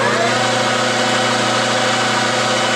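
A lathe spins at about 1000 RPM after being slowed down from 2000, giving a steady, loud mechanical hum with stable tonal lines and constant vibration, no voices.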